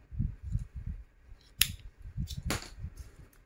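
Scissors snip through yarn after a knitted bag is finished, a few crisp, close cuts spaced apart over soft handling noise, with no talk.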